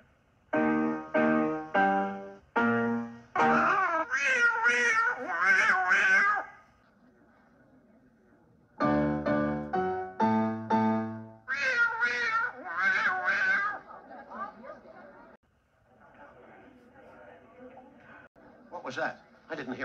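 Cats meowing loudly in a comedy scene where they are set on a piano, a run of sharp, pitched yowls in bursts with a pause in the middle, then fainter mews at the end.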